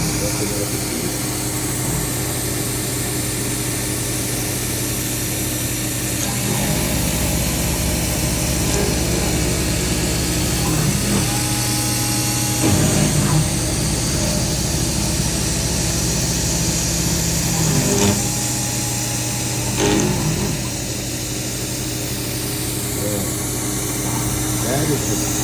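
A home shop CNC mill runs a cutting program, its steady motor and spindle hum continuous and fairly loud, with occasional brief clunks and shifts in tone as the cutter moves through the part.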